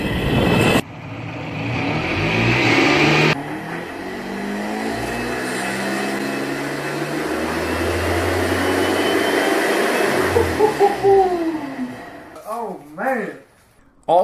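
An electric motor in a converted SeaDoo runs steadily on throttle as a low, sustained hum, with a person talking over it for much of the time and a few brief surges near the end.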